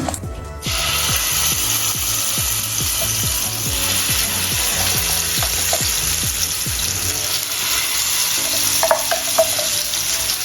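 Nigella seeds tempering in hot oil for a Bengali home-cooked dish, a steady bright sizzle that starts abruptly and holds loud throughout, with a regular ticking of spoon or spatula strokes against the pan underneath.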